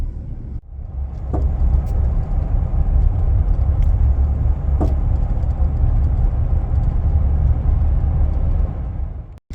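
2011 GMC Sierra with worn sway bar end links, heard from inside while driving: a loud steady road rumble with a couple of faint knocks or clunks.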